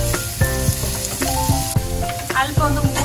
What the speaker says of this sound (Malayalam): എന്നിട്ട് നമുക്ക് സവാള അതിലോട്ട് ഇട്ട് കൊടുക്കാം.